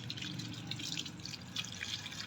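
Water poured onto the soil of a freshly repotted oleander plant, a soft continuous trickle and splash heard close and fairly quiet, with no talking.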